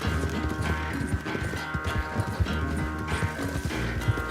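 Rapid clip-clop of galloping horse hooves in Red Dead Redemption 2 over a steady music bed, with a brief whinny-like tone; busy and continuous throughout.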